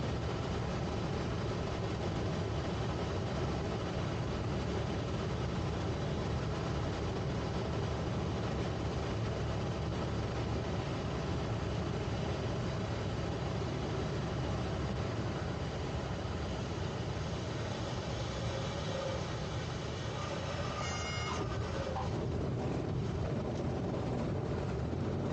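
A small training airplane takes off from runway 19 right at Milwaukee in a crosswind, its engine a steady, loud drone that holds throughout with little change in level.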